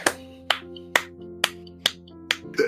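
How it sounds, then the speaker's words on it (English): A slow, sarcastic hand clap: about six sharp, close claps spaced evenly roughly half a second apart over a steady low background tone. "as if that clap were sarcastic"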